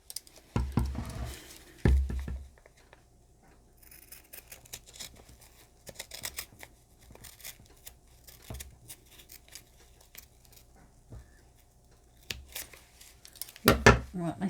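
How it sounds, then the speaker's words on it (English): Small scissors trimming back material at a work table, giving scattered faint snips and light papery crinkles spread over a quiet stretch, with a few louder handling knocks near the start and end. "I think I want my smaller scissors."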